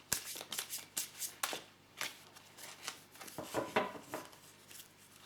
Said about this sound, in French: on va tirer encore 2 cartes